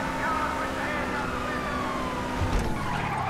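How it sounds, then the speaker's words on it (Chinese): Police car sirens wail in GTA V amid continuous car engine noise and tire skids, with a brief loud crash-like burst near the end; game audio is dense and steady throughout. "太多警车了吧！"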